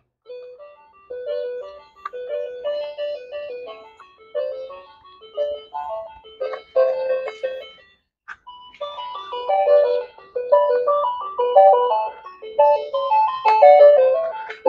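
A toy school bus's musical switch plays a bright electronic jingle of short beeping notes in bursts, loud and close, with brief pauses between phrases.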